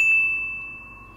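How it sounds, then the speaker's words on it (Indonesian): A single bright notification bell ding rings out clearly and alone, its tone sustaining and slowly fading away. "klik tombol bell atau lonceng yang gambarnya kayak begini"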